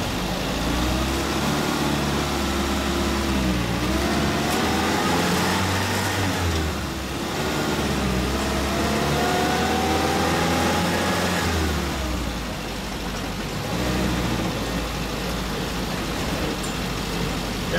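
A Land Rover Lightweight engine drones steadily while driving, loud and close, with the pitch rising and falling through gear changes over a heavy rumble of road and wind noise, and no talk.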